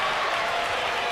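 A wrestling event crowd cheers and applauds in a continuous, dense roar of many voices and clapping, steady and moderately loud throughout.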